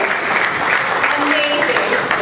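Applause in an auditorium at a high school awards ceremony, a thick, continuous wash of clapping with voices and a brief whistle-like tone mixed in, loud and close.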